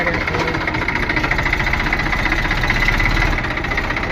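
A steady, close engine idles with a rapid, even knocking throb, running continuously without any voices.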